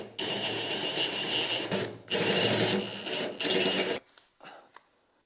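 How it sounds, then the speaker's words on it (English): A power drill with a stepped-up, larger bit bores holes during a carbon fiber wing install on a GT350R, running in several loud, steady bursts separated by short pauses before stopping with a few faint clicks. "All right, so we got the holes drilled out."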